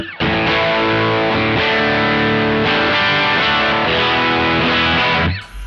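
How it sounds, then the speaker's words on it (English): Distorted electric guitar on the back pickup through a Joyo American Sound pedal with a Mooer cab sim, thick crunchy chords held loud and close, ending abruptly, with no voices. "Now the distortion sound."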